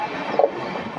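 A train crosses from the main line onto a platform loop line, a steady rumbling rail roll with faint wheel clicks and a brief squeal midway, moderately distant and without voices.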